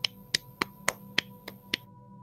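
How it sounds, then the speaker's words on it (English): Seven sharp, crisp hand claps or snaps in a quick, fairly even rhythm, close and clear against a quiet background. "Clap."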